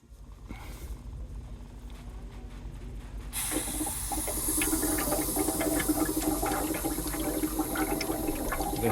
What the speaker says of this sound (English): There's some pressure and you can hear the weird gurgling sound